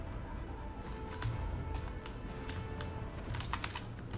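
Computer keyboard typing during a Smite gameplay session, a run of quick, close, irregular key clicks with a few louder clustered taps, no talking over it.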